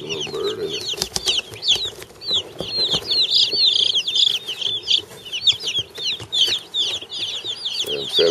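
Cornish Cross meat chicks in a homemade brooder pen, with many close, high-pitched peeping and cheeping calls overlapping continuously, mixed with some clucking and occasional soft thumps.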